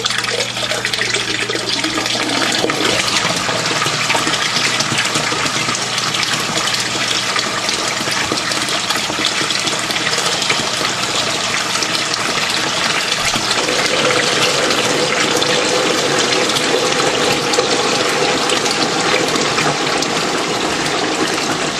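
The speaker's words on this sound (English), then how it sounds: "The bell siphon is right here, and the water will start draining in just a second down here." An aquaponics bell siphon draining water, a loud, continuous rushing gush that holds steady for over twenty seconds, its tone shifting slightly midway as the flow changes, with no speech.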